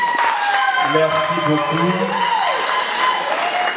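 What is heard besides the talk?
audience applause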